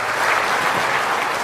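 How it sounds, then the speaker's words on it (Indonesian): A crowd at an Indonesian national work meeting applauds for the Minister of Agriculture with loud, dense, sustained clapping that fills the whole moment and rises and falls slightly, with no talk over it. "Berikan tepuk tangan untuk Bapak Mentan kita."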